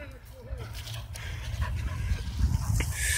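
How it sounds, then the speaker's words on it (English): Dogs on a running track pant close by in quick, rhythmic breaths, with a brief whimper near the start and a person speaking at the same time. "the friendly dogs that run the track sometimes"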